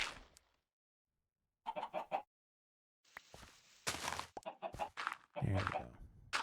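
Short bursts of video game chicken clucking come and go between pauses, with a voice talking over part of it and some soft stepping sounds.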